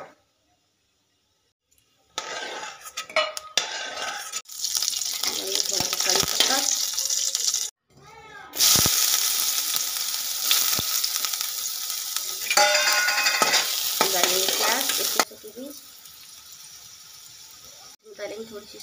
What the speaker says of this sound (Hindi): शेंग दाने इसमें भून लेंगे थोड़े।